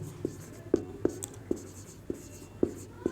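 A pen or chalk taps and scratches out numbers during a Class 10 math lesson on the sum of polynomial zeros, in a few short strokes spaced irregularly and heard up close in a quiet room.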